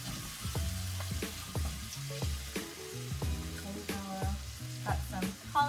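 Diced vegetables, including potatoes, cauliflower and carrots, go into a frying pan with gravy, giving a low steady sizzle broken by soft stirring knocks and clatters, fairly quiet and with no voices.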